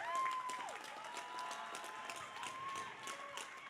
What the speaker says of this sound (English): a round of applause for two great fighters and one hell of a contest.